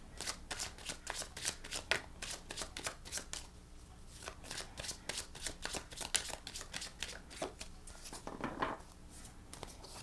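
Tarot cards shuffled by hand during a reading, a steady run of crisp riffling and slapping bursts close up, with no talking.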